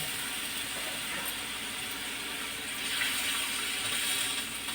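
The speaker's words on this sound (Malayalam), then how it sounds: "ആവശ്യത്തിന് വെള്ളം ഒഴിക്കുക." Water is poured into a cooking pot in a home kitchen while rasam is being made. It is a steady, close, continuous rushing pour that swells slightly toward the end, with no talking.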